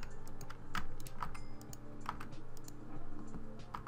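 A computer keyboard is dragged across a desk during a Minecraft Bridges match, giving close, steady scraping and rumbling with a few sharp clicks spaced roughly a second apart.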